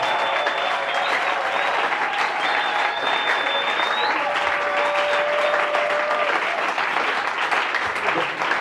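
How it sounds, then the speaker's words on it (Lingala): Loud, continuous applause and cheering from a congregation at a ministry school gathering welcoming a pastor, a dense clapping wash with raised voices and whistles running throughout. "Acclame, joie, acclame et acclame encore."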